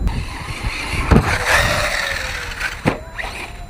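An Arrma Talion RC car on 4S running over muddy park grass, its motor whining and surging with two sharp knocks or bumps, fairly close with a rising and falling pitch, no talking.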